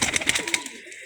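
Pet pigeons in a loft, a few close soft coos and wing or bird sounds in quick succession, fading to quiet at the end without talk.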